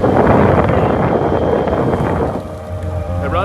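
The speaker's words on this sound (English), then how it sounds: "It's windy." Heavy wind buffets the microphone during a ride on a Live WaterSports LX motored board, a loud steady roar that eases slightly near the end, with a motor hum underneath.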